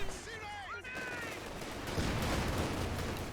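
Machine gun fire in the World War II strategy game Company of Heroes 2 during a 2v2 match, a steady rattling burst that swells toward the end beneath a commentator's voice, with a few brief chirping tones near the start.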